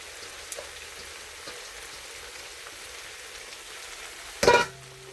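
Bean sprouts and cabbage frying for lumpia filling, a faint steady sizzle like light rain that continues throughout, with a brief louder clatter near the end.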